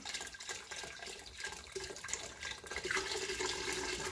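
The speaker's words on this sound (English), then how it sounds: "so now I'm going to put in my beef broth. And dump that right in there." Beef broth is dumped into a pot of mixed mustard and turnip greens cooking with turkey tails, a faint, close splashing and trickling pour that runs for a few seconds with no voices.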